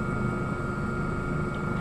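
A helicopter flies overhead in the military shooter game Squad, a steady droning rotor hum with a sustained tonal whine, continuous and fairly close throughout with no talking.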